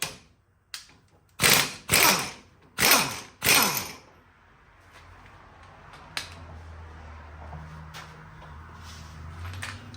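A ball joint press forces a seized ball joint out of a Chevy Trailblazer lower arm, with a single metallic click followed by four loud creaking, cracking bursts in quick succession, then quieter scraping and ticks over a low hum.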